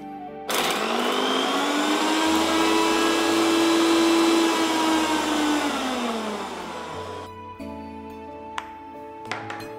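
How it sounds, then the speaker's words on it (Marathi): A Philips micro mixer grinder spins up with a single black peppercorn inside, giving a loud, steady high-pitched motor whine that holds for several seconds, then winds down to quiet with a couple of faint clicks. "हा आहे फिलिप्सचा मायक्रो मिक्सर ग्राइंडर, ज्यामध्ये मायक्रो ग्राइंड टेक्नॉलॉजी आहे"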